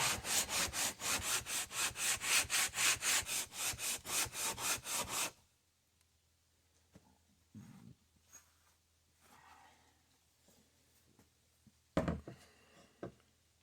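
A Kohler Command CH16S engine cylinder head, from a Cub Cadet 2166, is rubbed back and forth on a grinding stone in steady, loud rasping strokes for about five seconds, followed by quieter bumps and handling noises.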